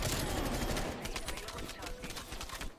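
Groza rifle fire in the video game Call of Duty Black Ops Cold War: rapid, steady shots crack in a fast rhythm through a noisy firefight, fairly close and moderately loud.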